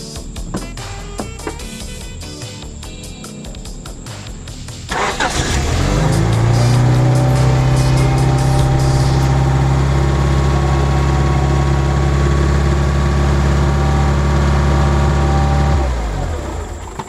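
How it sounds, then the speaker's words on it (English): A car with a burst power steering hose cranks and catches, roars up briefly, then settles into a steady idle that continues for several seconds before cutting off. "I just turned the car on"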